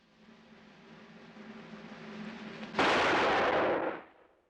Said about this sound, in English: I'm gonna put a bullet hole right in the middle of that mark.